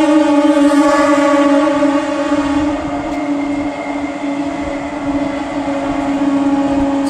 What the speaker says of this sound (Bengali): ট্রেনের আওয়াজে কিছুই বলা যাচ্ছে না